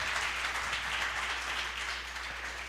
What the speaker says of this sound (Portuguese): Vamos dar um aplauso ao Senhor por isso?